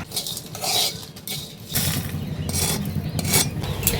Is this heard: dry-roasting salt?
yes